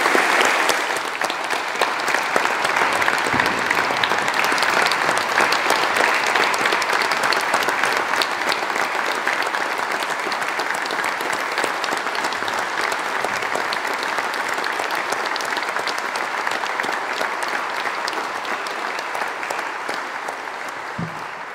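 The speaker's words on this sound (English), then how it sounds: "Could I invite you please to join in an applause of gratitude" A congregation at a Catholic mass of installation for a bishop applauds in sustained, dense clapping that fills the church for the whole stretch, fading slightly toward the end.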